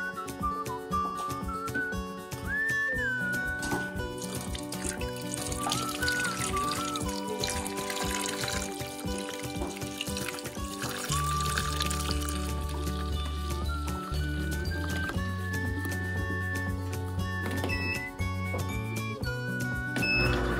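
Hot vanilla ice cream mixture poured from a pan, a continuous liquid trickle and fill under a bed of background music with tonal whistling.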